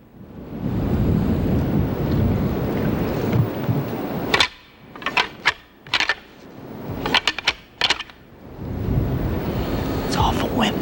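Strong gusty wind roars through open woods during a deer hunt, loud broadband rushing that drops away briefly midway, leaving a few sharp clicks and rustles, then surges back.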